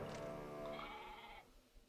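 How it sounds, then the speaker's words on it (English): A drunk sheep in the video game Okami HD lets out a loud, wavering bleat lasting over a second, followed by quieter trailing sounds. "That is one drunk sheep."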